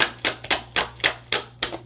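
A deck of tarot cards is shuffled in quick, close, crisp riffling bursts, about seven sharp papery flicks at a steady rhythm, with no voice over them.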